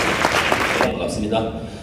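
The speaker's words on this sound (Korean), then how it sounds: "다시 한 번 우리 정의용 대표님께 큰 박수 부탁드립니다." A short burst of audience clapping at a senior modeling contest in Geoje, South Korea, dense for under a second and then fading quickly into a quieter room.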